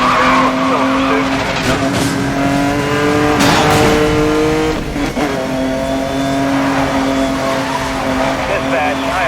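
Car engine revving hard with squealing, skidding tires during a police chase in Need for Speed Most Wanted, a loud continuous roar with shifting pitch while police radio chatter plays over it.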